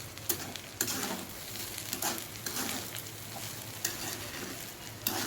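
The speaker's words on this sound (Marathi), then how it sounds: "2 मिनटं व्यवस्थित आपल्याला परतून घ्यायचं आहे." Sorghum breakfast mixture stir-fried in a pan, a steady close sizzle and frying hiss broken by scraping stirs and occasional sharp clicks of the spatula against the pan.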